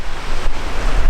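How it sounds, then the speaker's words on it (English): Small waves breaking steadily on a river shore, a continuous washing roar mixed with some wind noise on the microphone, close and fairly loud with no voices. "And the waves are crashing."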